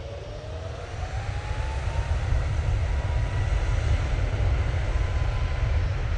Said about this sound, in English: Right, Ryanair, now on the roll.